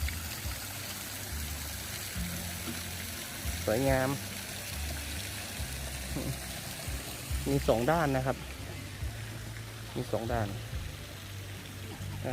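A waterfall at Naya Cafe in Phayao, Thailand, gives a steady, moderately distant rush of pouring water, while someone speaks over it at intervals.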